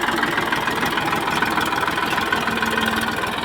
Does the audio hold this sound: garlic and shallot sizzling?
no